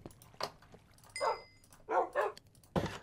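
A wolf in the Minecraft video game gives several short, distinct barks spaced across a few seconds, clear and close with quiet gaps between them.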